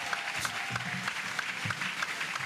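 A church congregation claps for Jesus at a salvation, healing and deliverance crusade in Bafoussam: dense, steady applause from a large crowd, continuous and evenly sustained throughout.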